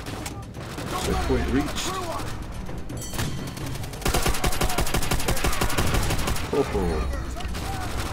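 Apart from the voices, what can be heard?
gunfire from Call of Duty: World at War video game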